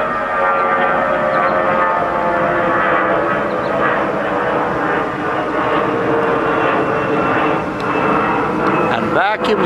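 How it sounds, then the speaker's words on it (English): A loud, steady aircraft engine drone fills the air, with a broad roar and faint rail rumble, and people talking underneath. "we got trains in the background and planes up in the air"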